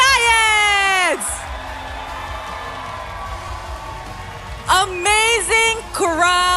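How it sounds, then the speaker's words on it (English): An esports arena crowd at a Malaysian Mobile Legends league match cheers and shouts loudly, a broad roar under announcer talk and music that swells in bursts. "Amazing crowd tonight."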